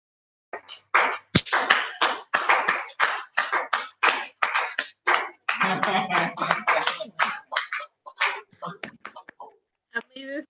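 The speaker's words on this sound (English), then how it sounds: "So I made this clap with Kumiyo" Audience applause for a speech at a Toastmasters club meeting: sustained clapping from a room of people for about ten seconds, loud and close, tapering off into scattered claps at the end.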